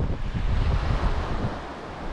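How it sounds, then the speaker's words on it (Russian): Wind gusts buffet the microphone at a seaside bay near Kirish, a continuous low rumble with rough fluctuations and no speech. "Ветер, пыль."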